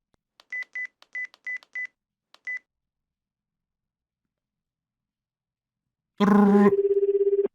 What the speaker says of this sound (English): I told myself that maybe this time I wouldn't hear the ringtone.